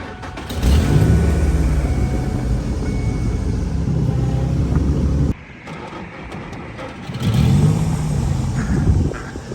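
A $400 Ford F-150 pickup engine runs with a loud, steady low rumble, cuts out abruptly for about a second, then revs back up and keeps running, close by with no talking.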